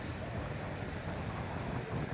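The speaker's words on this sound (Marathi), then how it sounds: "पाण्याचा वेग हा मोठ्या प्रमाणात असल्यामुळे घोड नदी सर्वदूर दुथडी भरून वाहत आहे." The flooded Ghod river at Kalamb runs fast and brimming over its banks, a constant low roar of rushing water blended with wind buffeting the microphone.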